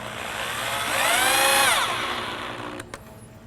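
A power drill drives stainless steel screws into pallet wood for a bench rebuild, its motor whining up, holding a strained pitch for about a second, then winding down with a small click at the end, loud and close.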